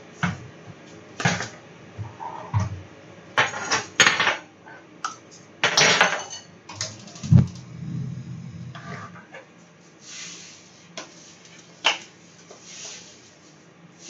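Spoons and dishes clink and clatter while sugar is measured out in a kitchen, in irregular bursts of metallic taps and knocks separated by quieter pauses, close by with no talk.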